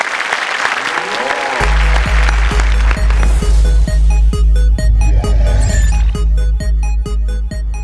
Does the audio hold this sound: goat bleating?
no